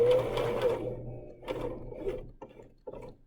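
A sewing machine runs a straight line of stitching on fabric, a close whirring hum in short bursts that slows and stops, then resumes in brief spurts.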